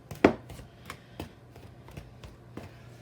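Pastry blender cutting shortening into a flour mixture in a bowl for biscuits, giving a run of soft, irregular crunching chops, one sharper stroke near the start, the rest quieter and close.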